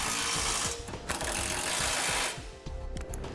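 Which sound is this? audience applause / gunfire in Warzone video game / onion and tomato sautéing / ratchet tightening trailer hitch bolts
ratchet tightening trailer hitch bolts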